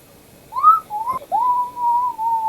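A person whistles clear, tuneful notes alone, loud and close: a rising swoop, a short note, then a long sustained tone with slight wavering.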